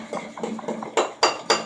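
Fluffy slime stirred in a bowl makes a series of wet clicking and squelching strokes, several soft ones followed by three sharper, louder smacks near the end, close up with no talk.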